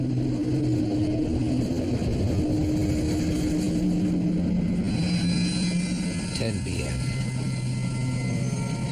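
Sunset Limited passenger train powering through Louisiana: a steady, loud engine rumble and drone fills the whole stretch, with a voice talking over it.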